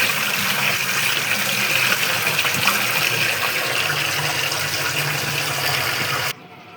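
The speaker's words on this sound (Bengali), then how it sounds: "দিয়ে এখন কেটে ধুয়ে নিচ্ছি" Tap water gushing steadily while cut liver is rinsed in a kitchen, a loud continuous splashing flow that stops abruptly near the end.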